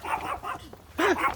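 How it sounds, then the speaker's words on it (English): A tiny dog barks in short, high yaps, three or four quick barks close by on a Los Angeles street, the last one louder and sharper, with no talk over them. "Tiny little dog."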